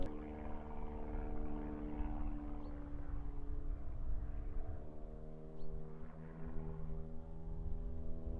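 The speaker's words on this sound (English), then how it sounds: "there is some lunatic flying around in his planes doing all sorts of tricks." A propeller plane flies aerobatic stunts overhead, a steady droning engine with a rich low hum that swells and fades slightly throughout.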